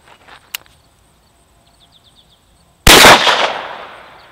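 A single sharp, loud 9mm shot from an 8-inch Sig Sauer MPX firing Sig Sauer Elite 115-grain FMJ rounds, cracking after near silence and ringing off into a decaying echo, preceded by a faint click.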